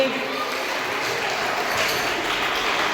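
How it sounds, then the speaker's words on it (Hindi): Steady, dense applause from a school crowd at a sports meet award ceremony, greeting a bronze medalist, filling the whole short stretch without a break. "जोरदार तालियां हो जाए एक बार फिर से।"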